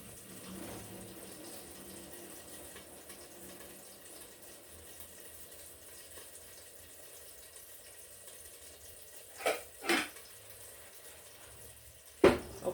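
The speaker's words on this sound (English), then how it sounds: "Drain our pasta." Pasta water draining from a pot, a low faint steady pour running for several seconds, followed near the end by a few louder clanks of the pot and lid.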